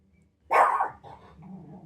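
A dog indoors gives one sharp bark at people passing a window, then trails off into a low, muffled grumbling growl.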